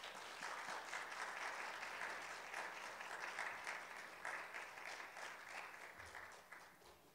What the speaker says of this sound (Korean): 환영의 박수로 함께 목사님 맞이하도록 하겠습니다